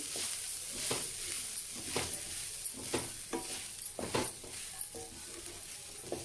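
Idli powder being stirred into onions in a pan, giving a low sizzle with soft scraping strokes at a steady rhythm, close and fairly quiet.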